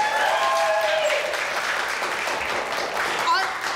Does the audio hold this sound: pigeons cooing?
no